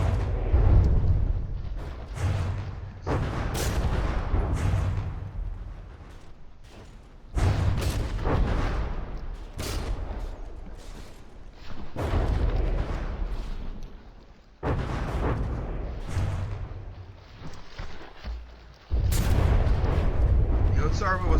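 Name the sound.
artillery barrage in the video game From the Depths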